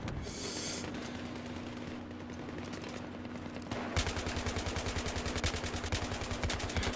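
M240B machine gun fire in Battlefield 3, played on Xbox One, with a continuous roar of gunfire that switches to loud, rapid, evenly spaced shots in a sustained burst over the second half.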